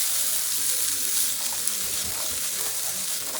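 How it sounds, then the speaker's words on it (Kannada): Chopped onions fry in hot oil in a pan before garlic paste goes in, giving a steady, close, bright sizzle throughout with faint stirring scrapes and no talk. "ಈಗ ಇದು ಗೋಲ್ಡನ್ ಬ್ರೌನ್ ಆಗೋ ಮಟ್ಟ ದಬಾಯಿಸಿ ಫ್ರೈ ಹೊಡಿಬೇಕು."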